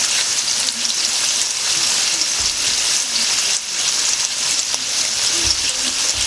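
Pork fried rice sizzles loudly and steadily in a hot pan, a constant close frying hiss with small crackles and no talking.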